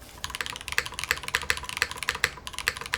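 Keys clack in a quick, even typing rhythm on a mechanical computer keyboard, The Wing, set at a raised typing angle; crisp, close taps with no voices.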